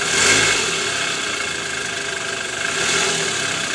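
A car engine fitted with a newly replaced balancer shaft runs steadily and loudly close by, holding a smooth, even drone with slight rises in revs and no voices over it.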